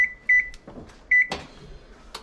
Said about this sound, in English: Now let's get this oven up to 400